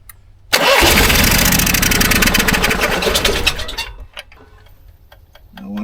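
Onan 5500 RV generator, long unused, cranked with a loud starter whir and rapid engine ticking for about three seconds, then it cuts off into a quiet pause with faint clicks.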